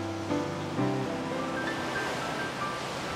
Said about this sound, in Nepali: आज चाहिँ छाल धेरै ठुल्ठुलो छाल आउँदैछ होइन।